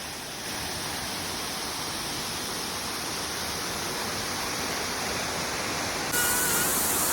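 Water flowing at a Scottish beauty spot, a loud, steady rushing roar like a waterfall that swells slightly near the end, with no voices.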